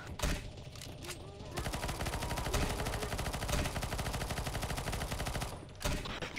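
Rapid automatic gunfire rattles nearly nonstop at a boss in the CS:GO Zombies map ze_surf_sahok, with dense overlapping shots and brief pauses at the start and end, while a player talks over the shooting.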